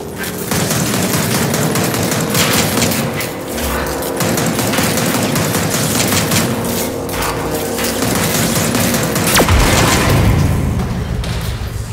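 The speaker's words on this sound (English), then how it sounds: "This time, try shooting the core. Someone fire on that core." Sustained rapid gunfire from Gears of War 4 as players shoot at a transformer core, dense and loud throughout with heavy booms and mechanical clatter, no talk.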